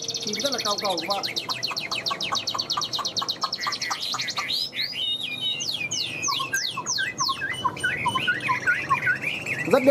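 Caged songbird with yellow legs, yellow beak, blue eyes and yellow plumage singing up close: rapid repeated trills, whistled slurs and sharp chirps in a lively continuous stream, a voice occasionally talking beneath it.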